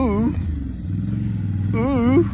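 Motorcycle engine revving hard in bursts as riders pop wheelies, with a steady low idle rumble between two sharp rising rev sweeps, close and loud.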